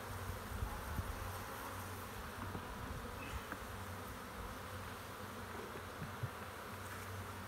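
Honey bees buzz around an opened hive during a winter Varroa mite treatment check, a faint, steady droning hum of many insects with occasional closer passes, no voices.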